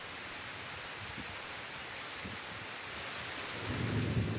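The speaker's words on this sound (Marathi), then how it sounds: "कोकण घाटमाथ्यावरती मुसळधार पाऊस सुरू आहे" Heavy monsoon rain pours down in Palghar, Maharashtra, in a dense, steady roar, with a low rumble swelling near the end.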